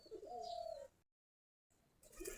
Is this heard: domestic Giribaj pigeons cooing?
yes